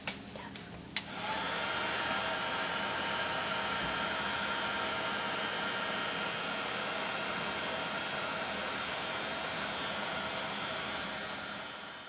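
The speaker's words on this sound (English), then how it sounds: "heat this with the Heat It tool before I apply my glaze." A Heat It craft heat tool blows hot air over a patina-coated metal piece, a steady loud whoosh after two brief clicks as it switches on, continuing evenly throughout.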